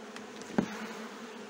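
Honeybees buzzing at an open hive during a spring inspection, a steady low drone with one brief closer swell as a bee passes near, no talking.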